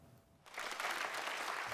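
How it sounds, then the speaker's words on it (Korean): US Congress members applaud in the chamber during the South Korean president's speech. A moderately distant clapping swells in suddenly and holds as a dense, sustained ovation. "이 덕분인지 미 의원들의 박수갈채도 60번이나 나왔는데"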